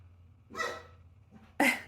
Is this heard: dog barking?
yes